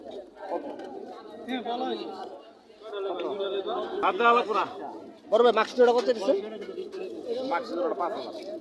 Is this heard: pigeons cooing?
yes